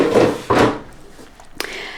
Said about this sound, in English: And I'm going to put the 2 drawers back in.